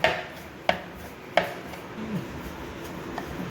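A knife cuts through rolled dough for appe payasa on a board, three sharp, evenly spaced chopping taps up close, then softer scraping and lighter handling noises.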